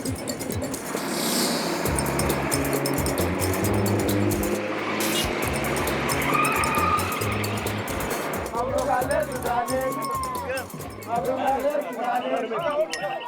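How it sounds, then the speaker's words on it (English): A taxi pushes through chaotic Khartoum traffic: a steady engine and road rumble close by, with horns, clinks and a busy street din, while voices chatter over it throughout. "my taxi driver has to fight his way through Khartoum's chaotic traffic"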